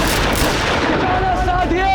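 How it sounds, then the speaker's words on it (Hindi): Rapid gunfire crackles in a dense, loud burst over a busy battle din, with a whistling tone sliding through near the end. "अपनी बंदूकें संभालो और चलाओ गोलियां"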